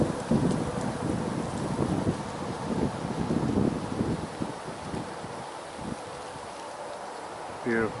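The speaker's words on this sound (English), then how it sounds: "There's a stiff headwind." Wind buffets the microphone outdoors on a suburban ride into a stiff headwind, a steady low rumble with gusty bursts, loud at first and easing slightly toward the end.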